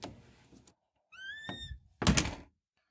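A house door creaks open with a squeaky, rising whine, then closes with a solid thunk, close and fairly loud, amid soft shuffling.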